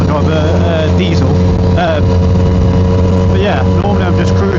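Yamaha MT-09 motorcycle fitted with a Black Widow exhaust, its engine running steadily loud and close throughout with a constant droning hum, while someone talks over it.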